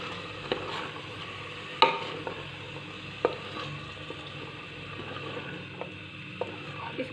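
Chicken fries with tomatoes, salt and red chilli in a pan, a soft steady sizzle under occasional scraping and clinking stirs, close and moderately quiet.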